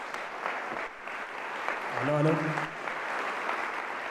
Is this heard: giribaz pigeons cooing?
no